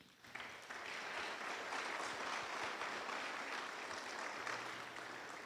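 A church congregation claps together in praise, with a faint, steady wash of hands that starts suddenly and holds evenly at a distance.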